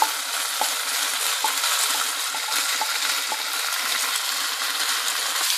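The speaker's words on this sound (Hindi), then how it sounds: "अब मैं ये जो झींगे फ्राई किए हैं वो भी इसके अंदर डाल के" Fried prawns added to an eggplant curry in a pan, with a steady close sizzle and soft intermittent clinks and scrapes, no talking.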